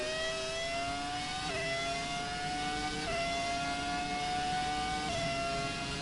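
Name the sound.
F1 car engine roaring, video game F1 2017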